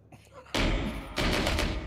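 Heavy bursts of automatic gunfire from a cooperative first-person shooter game, two loud sustained volleys close together after a brief quieter moment.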